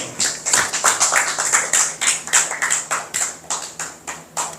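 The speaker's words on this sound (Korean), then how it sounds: "큰 박수로 맞이해 주세요." An audience applauds a lecturer being welcomed to a special lecture, steady dense clapping with rhythmic swells, fairly loud and close, with no talk over it.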